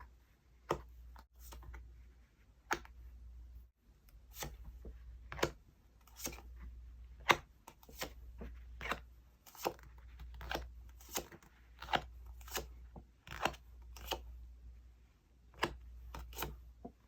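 Tarot cards are handled and laid out on a surface, producing soft taps, slides and flicks in a loose irregular rhythm, close and quiet with a low hum beneath.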